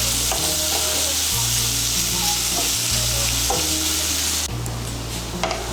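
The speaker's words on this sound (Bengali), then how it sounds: "ছোলা কচুগুলোকে ভেজে নেব" Pieces of chola kochu (taro) frying in mustard oil in a kadai, a loud, steady dense sizzle with intermittent stirring scrapes, close up and alone without any voices.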